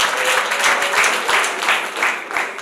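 Wedding guests applauding a mother at a Rwandan wedding ceremony, a crowd clapping steadily at moderate volume in soft rhythmic surges, with faint background voices underneath.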